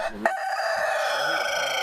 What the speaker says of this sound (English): And then the nuisance of the roosters, people having too many roosters and the noise.